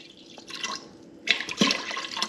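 Vinegar splashes and trickles into a container over octopus being pickled, a soft pour that turns louder and fuller partway through, close by and without talk.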